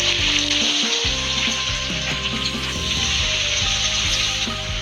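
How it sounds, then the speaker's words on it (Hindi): Leftover roti cones dipped in maida slurry fry in oil in a kadhai over a medium flame, with a loud, continuous close-up sizzle and bubbling that runs steadily throughout. "टू मीडियम फ्लेम पर इसे हम फ्राई कर लेते हैं।"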